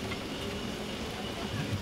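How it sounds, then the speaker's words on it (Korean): Rattling tram climbing a hill in Portugal, a continuous rumbling clatter of wheels and carriage heard from on board, moderately loud and steady throughout. "덜컹거리는 전철을 타고 오르는 언덕길."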